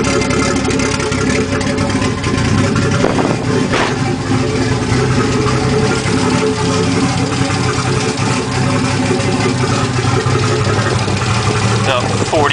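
A Nissan RB25DET engine idles roughly on its first start-up, a loud, steady, uneven rumble running throughout with a few small revs and voices talking over it.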